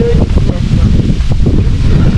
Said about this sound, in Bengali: কি ঠান্ডা বাতাস ভাই